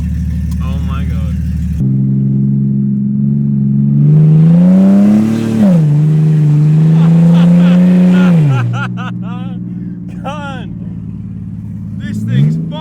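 A naturally aspirated Barra engine with a straight-piped exhaust snapped off at the headers revs loudly and raspily up close, rising and falling in long drawn-out pulls, with brief talk between revs.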